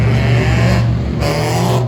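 Race cars at an enduro race roar past in a loud, continuous dense engine blare with a slight shift in pitch as the field goes by, close and unbroken.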